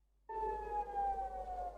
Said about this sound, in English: this is like that sound like an ambulance car